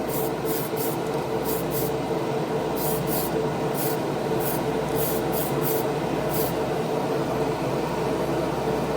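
A spray can lays down pearl clear coat in a loud continuous hiss, with short breaks in the spray as the nozzle is released and pressed again, and no talking.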